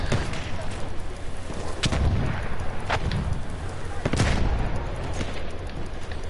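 Battlefield 1 combat: a steady rumble of battlefield noise broken by several heavy blasts and gun reports, including a louder boom near four seconds, with no voices.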